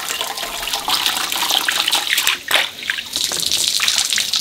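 Three pounds of silkworm pupae are rinsed under a running kitchen tap, a steady close hiss of flowing water with splashes and a brief dip in the stream midway.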